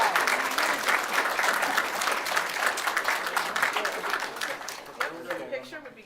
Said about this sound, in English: So, a nice round of applause.